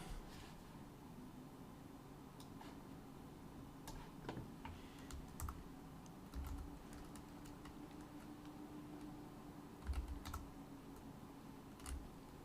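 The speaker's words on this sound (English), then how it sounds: "It's making noise, my keyboard." Quiet, steady typing on a computer keyboard, with soft key clicks and a few louder taps scattered throughout, heard alone against a faint background hum.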